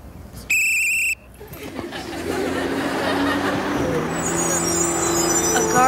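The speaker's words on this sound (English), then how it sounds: "A garbage truck?" A garbage truck starts with a short, loud electronic beep. Its engine then rumbles up and grows steadily louder, with a hiss near the end.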